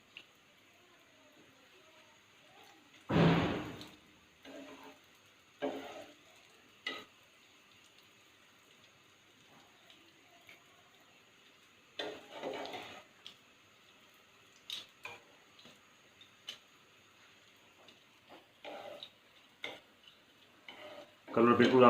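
Bread pieces for shahi tukda fry in desi ghee, heard as a faint low crackle broken by occasional louder scrapes and clinks of turning utensils against the pan, with no one talking.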